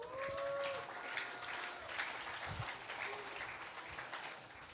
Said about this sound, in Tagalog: pumalakpak kay Lord